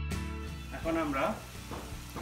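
Potato and tuna kebabs deep frying in hot oil give a soft, continuous sizzle, with a voice briefly sounding over it.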